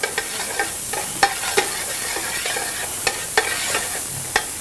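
Red onion sautés in a pan with a steady bright sizzle, punctuated by a series of sharp stirring clicks and scrapes at irregular intervals, close and fairly loud.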